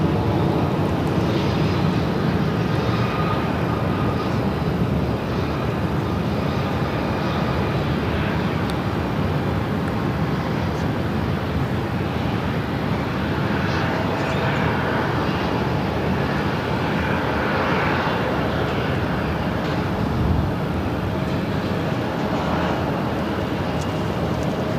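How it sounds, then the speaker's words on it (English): A Spirit Airlines Airbus A320neo arrives on runway 8 at Phoenix Sky Harbor, heard as a steady, loud, broadband jet roar that holds for about twenty-five seconds with no clear breaks. "Our next arrival on runway 8 coming in from Las Vegas. Spirit Airlines flight 477. It's an A320"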